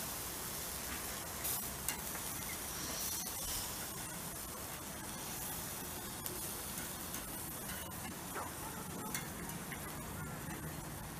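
Hot dog sausages cooking over charcoal and being turned, a soft continuous sizzle with scattered ticks and crackles, close and low in level.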